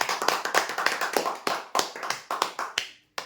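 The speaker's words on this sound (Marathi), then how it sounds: "जोरदार टाळ्या होते यांच्यासाठी" Audience applause at a prize draw, a crowd clapping in steady bursts that swell and fade over a few seconds before stopping, with no talking over it.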